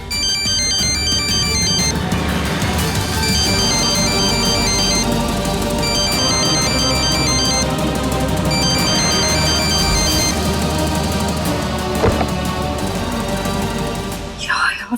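An electronic phone ringtone plays a repeating melodic pattern for the whole stretch, loud and steady, with some background sound underneath.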